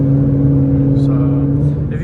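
A Ford Mustang drones steadily as it runs on the highway, its engine hum close and loud and fairly even throughout, with a voice briefly over it.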